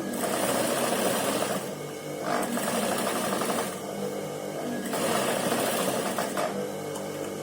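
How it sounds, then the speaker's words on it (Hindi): A sewing machine stitches soft, slippery kurti fabric, running in steady loud bursts with brief slowdowns between seams, close and alone without talk. "अब इस साइड की सिलाई करें।"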